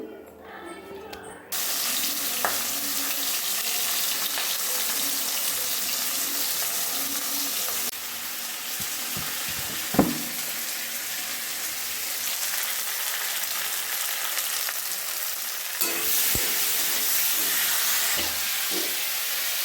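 A fish head frying in hot oil bursts into a loud, broad hissing sizzle after a brief quiet start, then crackles steadily with a few sharp pops and surges, heard alone and close.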